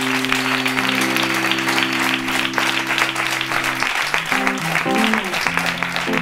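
A studio audience applauds after a band plays live on a late-night Spanish TV show, dense steady clapping over sustained band chords that fade as the music trails off.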